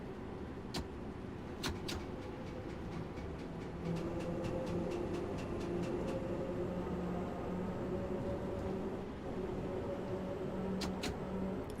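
A simulated Bakerloo line Underground train near Edgware Road runs with a steady low rumble, while sharp, rhythmic taps click from beneath the carriage in clustered runs.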